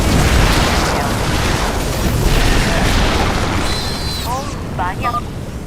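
StarCraft II combat with grenade explosions makes a dense, continuous booming rumble of blasts and debris. Brief voice-like tones cut through near the end.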